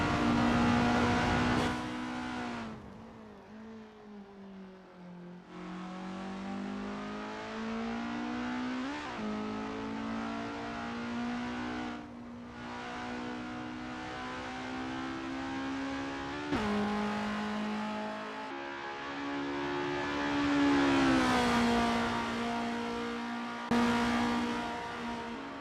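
A Formula race car engine lapping the Westwood 1988 circuit in a racing video game, a loud sustained whine that rises through the gears, drops sharply at each shift, and sweeps up and down repeatedly.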